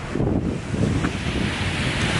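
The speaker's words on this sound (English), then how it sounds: "today we're at another waterfall." A roaring waterfall in Iceland in summer, a dense, continuous loud rush of falling water close by, mixed with wind buffeting the microphone, with no talk.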